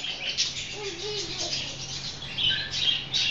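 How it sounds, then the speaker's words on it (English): Small birds chirp faintly and intermittently in the distance, a few thin high calls scattered over a soft background hiss. "Oh, birds."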